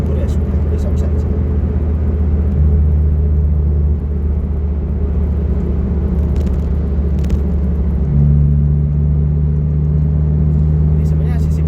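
Steady low road rumble and engine drone inside a moving Honda Brio, continuous and loud throughout, with slight shifts in engine pitch as the car drives on.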